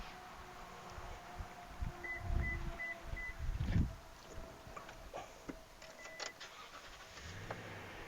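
A 2019 Toyota Tundra 4WD SR5 with a 5.7 liter V8 and factory performance exhaust starts up with a brief crank and a short burst of engine roar. It then settles to a quieter idle, heard close by, with a few faint beeps.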